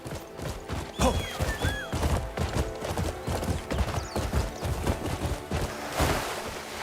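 Galloping horse hooves from the video game Crimson Desert, a rapid rhythmic clip-clop with a brief whinny-like call early on, set against game music and effects.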